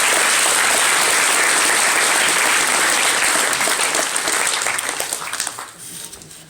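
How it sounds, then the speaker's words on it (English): Sustained applause from a crowd at an indie game event, loud and dense, tapering off toward the end. "give a round of applause"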